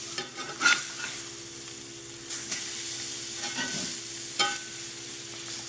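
Cajun blackened fish fries in a pan with a steady close sizzle, broken by a few brief spatters and soft scrapes, and no voices.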